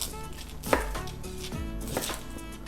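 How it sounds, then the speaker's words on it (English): A knife chops through a red onion on a cutting board, with two sharp, close blade strikes against the board standing out over a quiet background and no talking. "So let's start off with cutting our red onion."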